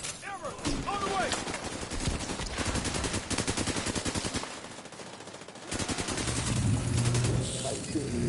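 Gunfire in the video game Division 2, with sustained automatic bursts rattling nearly nonstop, dipping briefly midway and then resuming at full loudness, with game effects mixed in.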